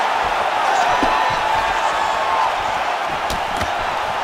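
Video game crowd noise from a UFC 5 fight: a constant roar of spectators with brief swells of reaction and sharp impact-like hits, steady and fairly loud throughout.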